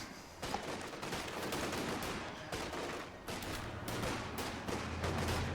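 Rifle fire in a WWII strategy video game, riflemen trading shots with Panzer Fusiliers: a dense, continuous crackle of overlapping gunfire and battle noise at a moderate, steady level.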